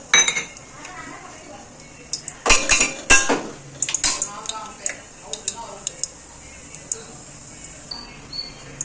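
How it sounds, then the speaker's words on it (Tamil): Cinnamon, cloves and cardamom fry in a little hot oil in a pan for chicken biryani, heard mostly as sharp metal clinks and taps of a spoon against the pan over a faint background, close by. "பட்டை, கிராம்பு, ஏலக்காய்லாம் போட்டோம். நல்லா இதை ஃப்ரை பண்ணிப்போம்."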